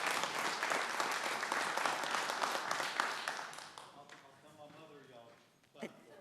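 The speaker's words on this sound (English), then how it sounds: "if you would join us with a round of applause" A council meeting audience breaks into a sustained round of applause that fills the room for several seconds, then thins and fades, leaving a quieter tail with a brief voice near the end.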